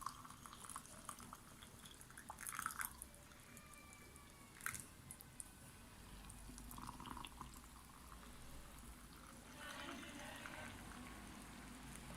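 Boiled water pours from a kettle into glass jars of homemade fruit compote in a home kitchen, a quiet continuous gurgle and trickle with small splashes, heard close amid faint room noise.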